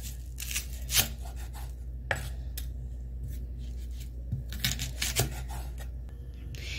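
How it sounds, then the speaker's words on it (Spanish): Onion being diced with a knife on a cutting board at home while making cauliflower with potatoes, giving a series of quiet, irregular cuts and taps with soft rubbing between them, close up and with no talking. "Esta cebolla lo vamos a picar también."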